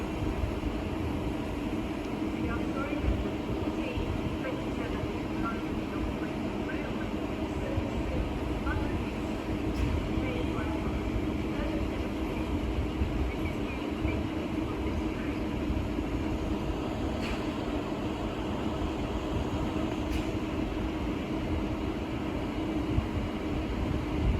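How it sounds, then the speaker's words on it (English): A London Northwestern Railway Class 350 Desiro electric multiple unit, on the Euston to Birmingham New Street service, pulls into a station with a steady, fairly close rumble and hiss that holds evenly throughout. "Now arriving is the 1451 London North Western Railway service from London Euston to Birmingham New Street, being worked by a lot of Class 350 Desiros"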